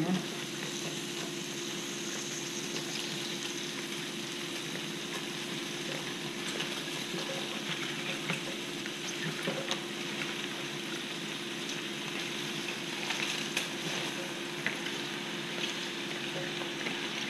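Cabbage sizzles and fries steadily in a pan on a home stove while it is stirred, a constant bright crackle with faint scraping that runs on alone.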